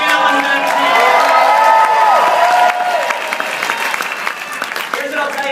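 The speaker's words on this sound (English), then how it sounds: "he is in the room, so loud applause" Loud applause and cheering from a large crowd at a Toronto regional success training event, with whoops and shouts layered over sustained clapping, rising strongly, then holding steady through the whole stretch.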